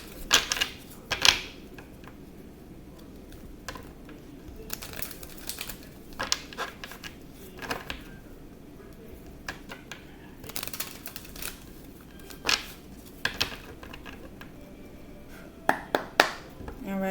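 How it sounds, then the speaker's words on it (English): A tarot card deck is shuffled close up, with soft riffling and flicking bursts recurring at irregular intervals over a low background hush. "I'm going to shuffle. I just feel called to shuffle them."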